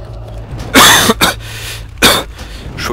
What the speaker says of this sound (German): Entschuldigung, ich habe immer noch Husten